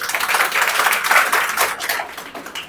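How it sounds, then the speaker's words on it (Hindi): A group of people applaud, a brief burst of dense clapping that swells and then fades over a few seconds, without talking. "इसके लिए एक ताली बजनी चाहिए"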